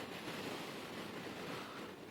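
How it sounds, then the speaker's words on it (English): Strong wind roars steadily with a dense, unbroken rush of broadband noise, buffeting close to the microphone throughout. "It is really windy."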